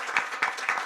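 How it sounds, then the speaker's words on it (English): Applause from a conference audience at a regional health summit, saluting the panel members. It comes as a short, dense burst of clapping, with the claps pulsing in about three swells. "we should do a round of applause for all our panel members"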